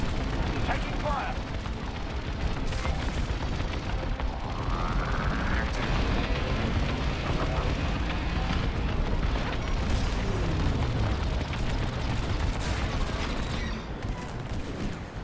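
Heavy incoming fire and rumbling explosions in the Star Wars: Squadrons multiplayer space dogfight, a dense continuous barrage of booms, blasts and laser bursts with a player's voice speaking over it.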